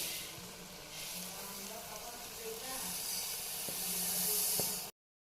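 Rice tipped into hot oil that already holds fried ingredients for Sunday-special egg rice, giving a steady close hiss and sizzle that swells slightly, with a few light clinks, then stops abruptly.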